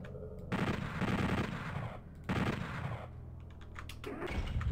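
Rapid bursts of gunfire from a weapon in Doom 64, Master Edition, in a research lab level: two loud sustained volleys of repeated shots, then a quieter stretch with scattered clicks before firing resumes at the end.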